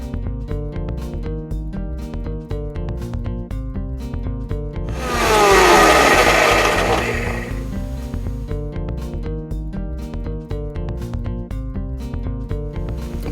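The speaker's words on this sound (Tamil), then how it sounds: "இப்போ இதை எடுத்து நம்மளுடைய மிக்சர் ஜாரில் போட்டு நல்லா பொடியாக அரைச்சி எடுத்துக்கலாம்" A kitchen mixer grinder jar whirs loudly for about three seconds, grinding roasted pepper and chilli into powder, rising over steady background music and fading out.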